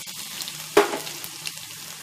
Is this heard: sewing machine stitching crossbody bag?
no